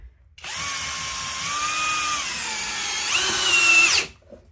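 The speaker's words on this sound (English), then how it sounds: "And now we'll test the drill." A Skil PWRCORE 12 cordless drill driving a screw whines steadily for a few seconds, its pitch shifting slightly under load, then rises briefly before cutting off abruptly.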